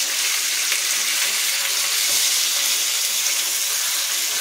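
Fish pieces frying on a flat tawa griddle in a home kitchen, giving a steady, close, continuous hiss and sizzle of hot oil with no talking.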